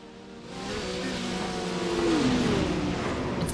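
A race car competing in the 2022 winter Nürburgring 24-hour race revs hard, its engine note rising and shifting steadily over a constant roar, loud and close throughout with no talk.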